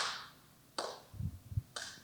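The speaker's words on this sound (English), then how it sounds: "that's the sound of one person clapping" One person claps hands about three times, each sharp and fairly faint, with soft low thumps between the claps in a quiet room.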